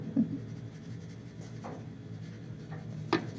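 Painting paper scrapes and rubs against a wooden easel in soft, intermittent strokes, with a couple of sharper scratches standing out from a quiet background.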